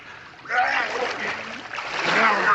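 Splashing in bay water as a man is held under, a short rough churning of water lasting a couple of seconds, moderately loud and close.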